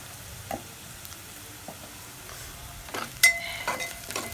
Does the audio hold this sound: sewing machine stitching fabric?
no